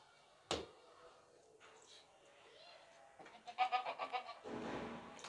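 Goat bleats in short repeated cries from a heavy two-tooth sacrificial billy goat over 45 kg, left alone in an unfamiliar spot; a sharp call early, then a run of pulsing bleats near the end amid faint background voices.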